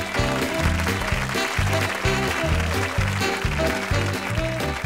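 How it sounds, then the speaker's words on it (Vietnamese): Studio audience applauding on a Vietnamese TV game show, the clapping mixed under a loud, rhythmic, bass-heavy musical fanfare that pulses on a steady beat. "Mời quý vị chúng ta dành một tràng pháo tay tiếp theo để cùng chào đón cặp vợ chồng thứ hai."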